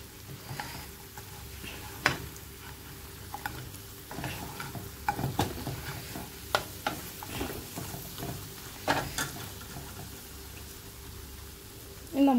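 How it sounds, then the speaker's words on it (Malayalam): Korean fried chicken being stirred with sesame seeds in a pan, with soft scraping and tapping of utensil against pan over a faint sizzle, fairly quiet and steady throughout. "നന്നായി മിക്സ് ചെയ്ത് കൊടുക്കാം."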